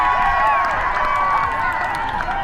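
A home crowd at a men's flag football national final cheers loudly and steadily, a dense roar of voices with scattered shouts throughout, with no break.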